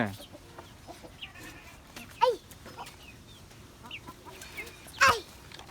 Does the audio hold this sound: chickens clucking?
yes